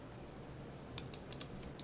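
Keys clicked on a computer keyboard while working in 3ds Max, a handful of sharp, separate taps in the second half, close and faint over a low steady hum.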